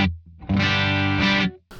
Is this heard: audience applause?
no